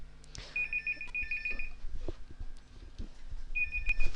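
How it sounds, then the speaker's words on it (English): A telephone rings in two bursts of electronic trilling, one long and one shorter near the end, fairly loud indoors over a low background hum. "Sorry about the phone."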